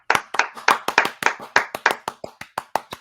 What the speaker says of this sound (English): Should I be clapping too